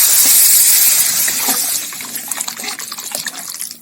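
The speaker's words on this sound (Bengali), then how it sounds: "এবার আমি জল দিয়ে দেবো" Water pours into a pan of cooked spice paste, a loud gushing splash up close that eases into bubbling and hissing as it settles.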